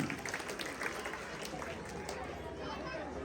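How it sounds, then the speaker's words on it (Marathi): Dense applause from a crowd at a lively Marathi home-minister style game show event, continuous and steady at moderate level with a busy crowd texture throughout. "वाजवा टाळ्या याच्यासाठी"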